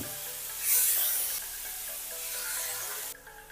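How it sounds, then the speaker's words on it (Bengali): Washed rice goes into hot ghee with whole spices for zarda pulao, a sharp hissing sizzle bursting up then settling into a steady fry that drops off near the end. "এবার এর মধ্যে দিয়ে দিচ্ছি ধুয়ে রাখা চাল।"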